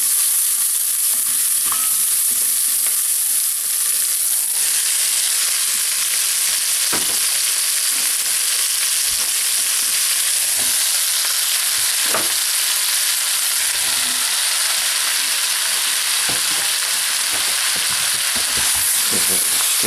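Chilies and peppers fry in a pan for radish curry, a constant bright sizzle punctuated by occasional knocks and scrapes of stirring.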